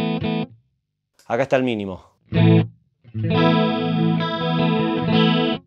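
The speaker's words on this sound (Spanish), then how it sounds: "Esto es básicamente un delay que tiene la modulación" Guitar signal run through a modulated delay pedal on a pedalboard, with the delay time being swept down to its minimum, giving short chorus-like doubled notes; distorted tones ring out in separate bursts, then sustain, with a brief spoken remark between.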